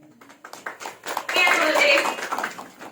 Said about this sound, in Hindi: ये सब लोग यहाँ ताली बजा के आपका हैप्पी बर्थडे कर रहे हैं।